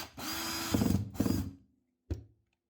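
A power drill whirs in two short bursts as it drives screws into a washing machine pump, followed by a single brief mechanical clack, fairly faint.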